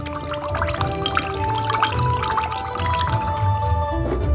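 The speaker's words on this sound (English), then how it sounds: "Pour the diluted oyster sauce into the wok." Diluted oyster sauce poured into a hot wok, a steady sizzling and bubbling liquid sound, close and continuous with no talking.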